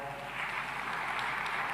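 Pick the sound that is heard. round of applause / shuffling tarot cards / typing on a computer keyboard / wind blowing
round of applause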